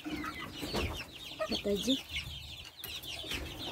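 Chickens and a big Brahma rooster cluck and call in a poultry yard, with scattered near calls over a faint background, while a person speaks briefly nearby.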